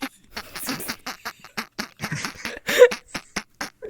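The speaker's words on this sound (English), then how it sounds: "You maybe need a little bit more refinement for the random bird noise." Short squawking bird calls from a VRChat roleplay game, heard in quick bursts with a louder squawk near the end, played alone without talk.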